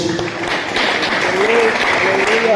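A church congregation claps their hands together in worship, a loud sustained burst of many hands that swells slightly toward the end while a voice speaks over it.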